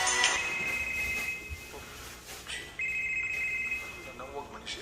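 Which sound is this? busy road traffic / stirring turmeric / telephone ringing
telephone ringing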